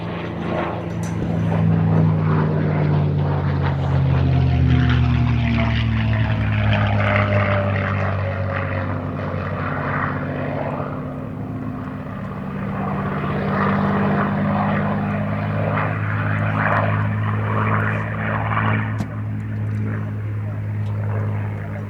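A Merlin-engined Mustang fighter flies at the Duxford Battle of Britain air show, its propeller engine droning steadily and rising and falling as it passes, while a commentator talks throughout.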